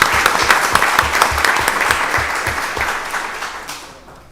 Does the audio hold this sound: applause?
yes